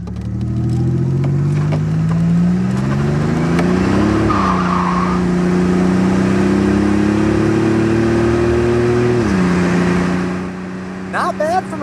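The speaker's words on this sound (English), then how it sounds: "We're gonna go ahead and get in the throttle here real quick." A stock 1987 Buick Grand National with a turbocharged 3.8 V6 accelerates hard from inside the car, its engine note climbing through two gear pulls before easing off.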